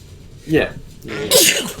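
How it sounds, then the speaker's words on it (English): A single close, loud sneeze bursts out after a short spoken word, with a broadband hiss-like release followed by a brief voiced tail. "I sneezed"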